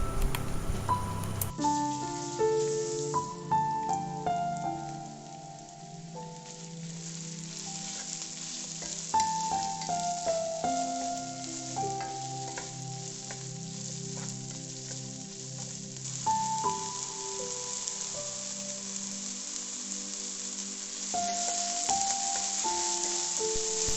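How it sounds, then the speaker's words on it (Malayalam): Soya chunks frying in hot coconut oil while being stirred, a continuous bubbling sizzle with occasional scrapes of a spoon, heard close and steady beneath background music. "വെളിച്ചെണ്ണ ചൂടാകുമ്പോൾ നമ്മൾ നേരത്തെ തയ്യാറാക്കി വെച്ചിരിക്കുന്ന പോർഷൻ 1 അതിലേക്ക് ചേർത്ത് കൊടുക്കുക. ഇളക്കി കൊടുത്തുകൊണ്ടിരിക്കുക."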